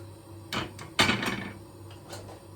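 A lid placed onto a pot of simmering okra soup, a few short clunks and rattles over about two seconds, the loudest knock in the middle, close by against a low kitchen hum.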